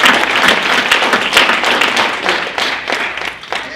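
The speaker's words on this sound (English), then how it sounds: "Can we get a round of applause for that?" Applause from a conference audience at a fitness studio expert panel, steady dense clapping filling the whole stretch at close range, with no voices standing out.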